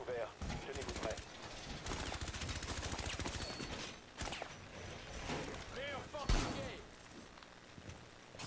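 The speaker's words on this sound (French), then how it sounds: "Il y en a un qui tire dans le mur." Rapid gunfire in Rainbow Six Siege, someone shooting into a wall, sounds as dense automatic bursts that run for several seconds with a heavy impact near the end, while players talk over it.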